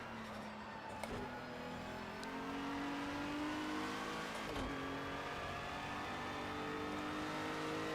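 A GT4 race car circles Bathurst in Project Cars 2, its engine revving continuously and rising through the gears, with brief dips at two shift points and a steady, sustained roar.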